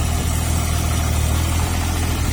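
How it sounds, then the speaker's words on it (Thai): A JCB 8035 ZTS mini excavator's three-cylinder diesel engine idles steadily close by, a low, even throbbing drone with mechanical rattle that holds constant throughout. "เครื่องยนต์น่าจะสามสูบครับ สามสูบ"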